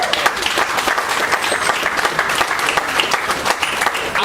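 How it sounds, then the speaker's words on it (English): A crowd at a book launch lunch claps steadily for a guest, dense and sustained applause filling the room with no voices standing out. "He deserves another round of applause."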